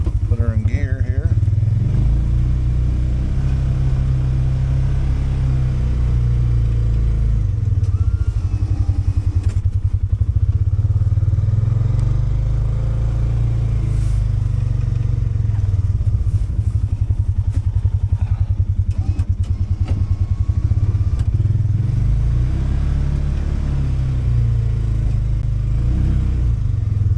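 A Trail Rider 570 engine plowing about ten inches of fresh snow on a driveway after a storm, a loud steady low rumble with occasional clatter and thumps, under a voice.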